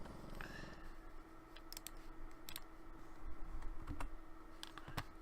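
Keystrokes on a computer keyboard, a few sparse clicks spread over several seconds against a steady low hum, fairly quiet and close.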